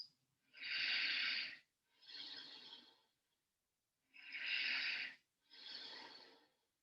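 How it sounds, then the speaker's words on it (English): Deep breathing in a yoga side plank, four slow, close breaths in alternating pattern, each a loud airy rush lasting about a second, separated by short silences. "Deeply breathing for 5 breaths."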